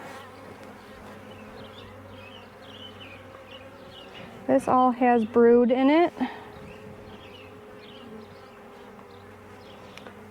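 Honeybees swarm around an opened hive with brood frames, making a continuous close buzz throughout, while a person speaks briefly partway through.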